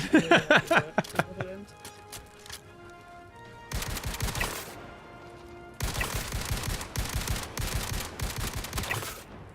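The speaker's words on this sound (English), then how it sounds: "I love this shotgun." Shotgun blasts and bursts of gunfire in the first-person shooter Star Citizen, a quick cluster of sharp shots followed by two longer stretches of rapid, loud firing, with a voice speaking briefly.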